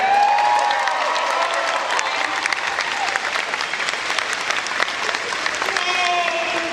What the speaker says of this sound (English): can we just get a round of applause for our amazing signer over here?